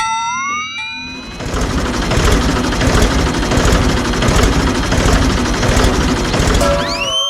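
A heavy tractor engine rumbles steadily and loudly, starting after a brief moment of quieter sound and running continuously with a rough, throbbing texture.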